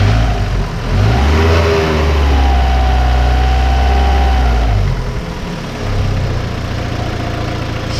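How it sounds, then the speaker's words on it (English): Rover 45 engine idling steadily with the power steering pump whirring, a loud, close, continuous drone with a brief rise in pitch midway before settling back to idle. "Power steering fluid whirring away in there."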